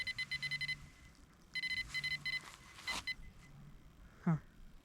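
Electronic bite alarm on a carp fishing rod set to test line pulled out at long distance, sounding repeated short, high beeps in quick bursts, close by, with a few faint outdoor noises between them.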